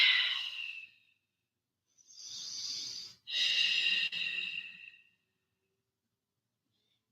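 Slow, close breathing during a yoga flow: one airy exhale, a pause, then a longer inhale and exhale before silence. The breaths stand alone with no talk.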